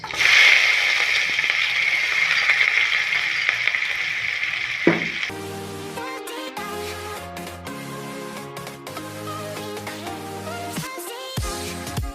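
Onions frying in oil for an egg curry give a loud, close crackling sizzle for about five seconds, after which tonal background music takes over and the frying fades beneath it.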